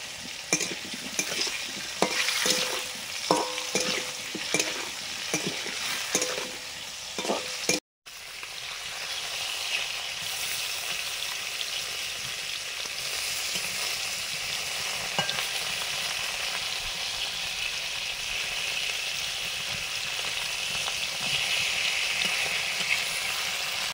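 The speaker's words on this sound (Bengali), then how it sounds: "আলুগুলো দিয়ে দিলাম, লবণ দিয়ে ভাজবো" Potatoes frying with salt in a pan, a steady close sizzle with stirring scrapes throughout, broken by a brief dropout near eight seconds, then a hissing fry continuing alone.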